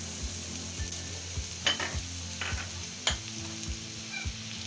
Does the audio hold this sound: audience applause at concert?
no